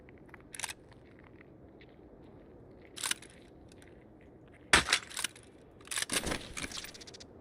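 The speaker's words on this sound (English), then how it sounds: "I know I heard crunch." Sharp, brief crunches of footsteps in Escape from Tarkov, scattered in short bursts with quiet gaps: one near the start, another mid-way, then a closer cluster toward the end.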